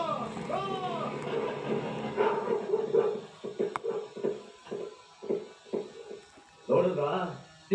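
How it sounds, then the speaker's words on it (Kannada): Several large dogs bark in a rapid series of close, loud barks following some earlier whining and background noise. "ಸಿಂಹದಂತ ನಾಯಿಗಳನ್ನ ಬೆಕ್ಕಿನ ಹಾಕಿ ಸಾಕೊಂಡಿದ್ದಾರೆ."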